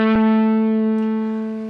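Guitar played through an OctaFuzz pedal with its expression control fully down, leaving almost no octave: a single sustained fuzzy note, struck once and ringing alone while slowly fading.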